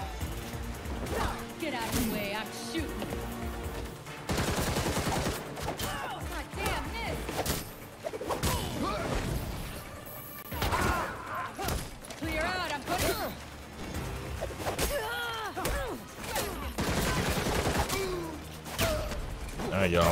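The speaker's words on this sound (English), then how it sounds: "Trying my best to dodge these bullets because they are driving me nuts with that." Gunfire and bullets in Gotham Knights come in repeated bursts and cracks, with clattering impacts through a busy combat mix and someone talking over them.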